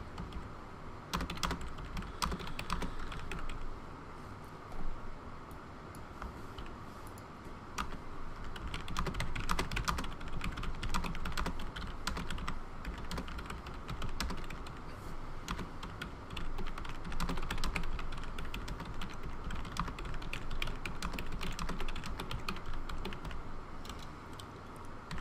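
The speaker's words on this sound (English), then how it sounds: "So I'm just going to type in something like" Someone types on a computer keyboard, the keys clicking quickly and continuously for about twenty-five seconds at close range, with short pauses and no other sounds.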